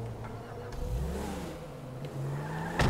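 A Volkswagen Passat pulls away in Grand Theft Auto V, its engine revving up through rising gear tones, steady and fairly loud for a few seconds, with a sharp burst near the end.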